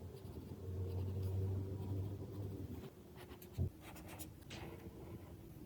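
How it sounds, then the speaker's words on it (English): A colored pencil draws along paper, giving a soft, steady scratching that runs for a few seconds and then breaks into shorter strokes, faint and close up. "I'm gonna connect the dot with the side of the barrel just with a colored pencil."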